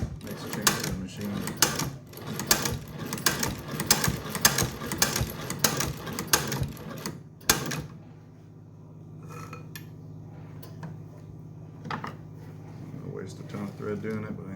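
An Amazon-bought leather sewing machine stitches a test piece up close, giving fast uneven mechanical thumping and clattering for the first half before stopping, followed by quieter handling clicks and a low hum.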